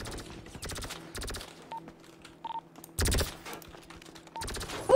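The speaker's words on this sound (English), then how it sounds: "Who's shooting at me, bro?" Gunfire in the video game GTA V: rapid automatic bursts in short clusters, loud and close, separated by quieter gaps with faint game effects.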